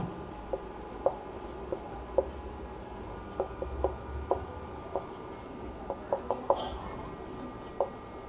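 Marker or chalk rubs and taps across a classroom board during a class 12 maths lesson, giving faint, irregular clicks and light scrapes over a low room hum, with no clear speech.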